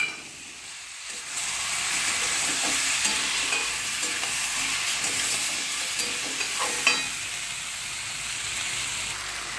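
Jackfruit sautéed with spice paste in a hot pan sizzles and hisses steadily, with soft stirring scrapes throughout and no talking.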